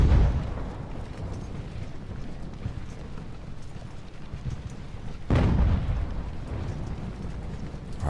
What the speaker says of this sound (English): the mortar is opening fire on us